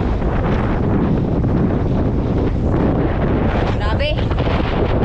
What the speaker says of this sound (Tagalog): So sobrang lakas mga katangay ng hangin. Baka hindi kagandahan yung audio natin dito.